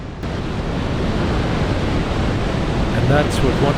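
Thunderous waterfall pouring 1.5 million cubic metres of water per second, a loud steady broadband roar throughout, with faint voices appearing near the end.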